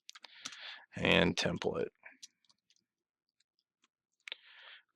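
Keys clicking as a file name is typed on a computer keyboard while setting up an AutoCAD template, light taps at the start and a short run at the end, with someone talking in between.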